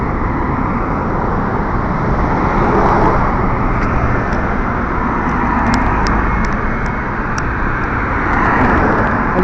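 Steady roar of busy road traffic as many cars pass continuously nearby, a dense, unbroken wash of engine and tire noise with brief faint high chirps, heard at a crossing during a crabbing outing in the UAE.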